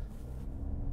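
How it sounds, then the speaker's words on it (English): A 2022 Mercedes C 300 with all-wheel drive, turbocharger and mild hybrid system accelerates from inside the cabin, a low, steady engine rumble that swells slightly toward the end, with no talking. "that is a combination of the turbocharger and the mild hybrid system working in conjunction with each other"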